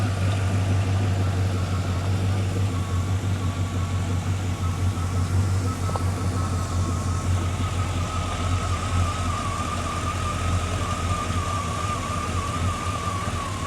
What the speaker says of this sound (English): It has a nice exhaust rumble.